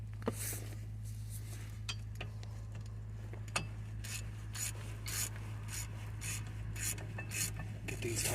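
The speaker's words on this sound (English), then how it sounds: "Get these tightened up and just use the same amount of force that you used to get them off to tighten them back on." A ratchet wrench tightens 18mm caliper holder bolts on a Vauxhall Astra front brake in a repeated run of close clicking and rasping strokes, with a few sharper metallic knocks over a steady low hum.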